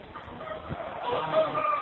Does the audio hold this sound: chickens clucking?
yes